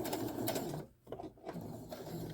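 A sewing machine runs a final line of stitches on curtain fabric, its steady close whirring rattle broken by a brief pause before the motor starts up again and continues evenly.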